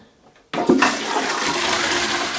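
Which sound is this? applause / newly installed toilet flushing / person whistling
newly installed toilet flushing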